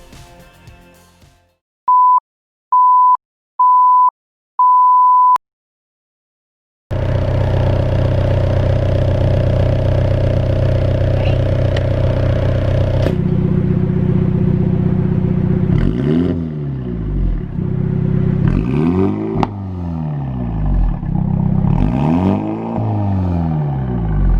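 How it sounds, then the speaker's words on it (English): Four short electronic beeps, then a 2021 MINI Cooper GP3 with a John Cooper Works Pro exhaust starts and idles loudly before revving several times in quick, rising bursts with a throaty exhaust note. "I'd like to follow up with a sound bite of the exhaust."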